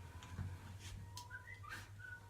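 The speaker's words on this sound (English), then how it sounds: "Ooh, somebody's whistling at me. It's okay, it's just a tablet notification." A tablet's whistling notification chime: a few short rising and falling whistle tones over a steady low hum, moderately loud and close, with no talking.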